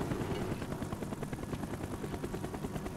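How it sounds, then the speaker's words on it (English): An enemy helicopter flies in Call of Duty Black Ops, its rotor giving a fast, steady chop that stays loud and close for a few seconds, with no voices over it. "Wait, is that another enemy helicopter?"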